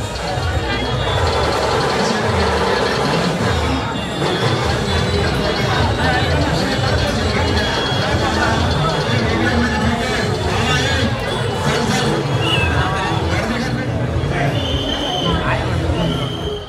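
A dense festival crowd packs a Ganpati pandal in Pune, a loud continuous hubbub of many voices and shuffling with clatter throughout, a close voice talking over it.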